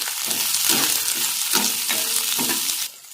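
Chopped onion sizzles loudly in hot oil with mustard seeds and cumin for beans poriyal, with a spoon scraping and stirring the pan at a steady rhythm until the sizzle drops at the end.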